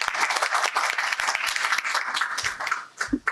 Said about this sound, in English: So let's have a big round of applause for all of you.